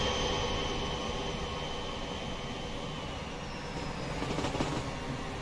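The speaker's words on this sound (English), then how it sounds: "We are fast catching up with this train here, which really sounds like a 59." A Class 59 diesel locomotive passing in Train Simulator, a continuous loud engine drone and rumble with wheel and track noise swelling toward the end.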